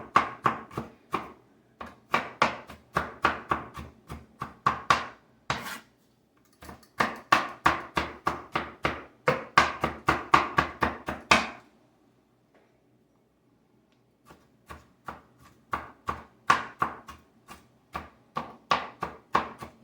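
A knife chops a regular (not sweet) onion finely on a cutting board for guacamole, fast rhythmic bursts of close, crisp strikes with a short pause midway.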